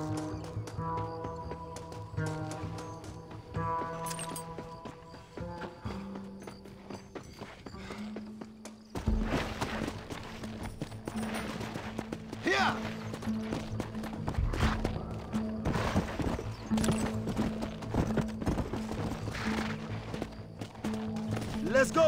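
Horse hooves clip-clop steadily in the Red Dead Redemption video game, a rhythmic trot mixed with music and ambient game sound, with a character speaking over it.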